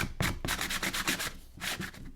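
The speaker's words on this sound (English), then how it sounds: "Now I'm going to give some of the rough edges a little bit of sanding." Drilled wood has its rough edges sanded by hand, giving rapid repeated scratchy rubbing strokes, close and steady, with no talk.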